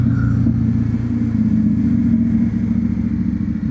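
A Bajaj Dominar 400 motorcycle is ridden with a steady, loud, low engine drone and constant road rumble close to the rider, with no talking over it.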